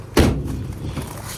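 The back door of a 2018 Peugeot Partner van swings shut with one solid, close thud, followed by a soft low rumble of the surroundings.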